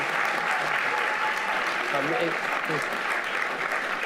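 Conference audience gives steady applause at a keynote session, with a voice briefly talking underneath midway through.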